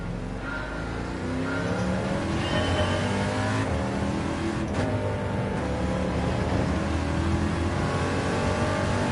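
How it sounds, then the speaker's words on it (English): The Chaparral 2J race car in Gran Turismo 7 roars continuously, its large Chevy V8 revving and shifting through gears alongside a small fan-driving engine, loud and sustained with rising and falling pitch sweeps. "Unique sound of a large Chevy V8 and a small engine to power the fans."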